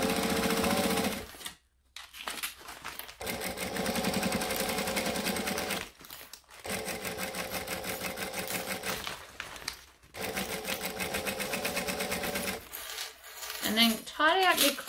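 A sewing machine stitching slippery fabric for a crossbody bag with drop-in lining: a close, loud, rapid mechanical whirring that runs in long bursts separated by short stops.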